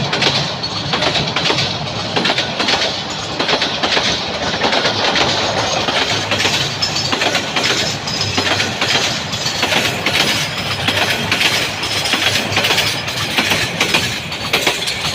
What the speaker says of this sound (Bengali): খালি বগিগুলো যাচ্ছে।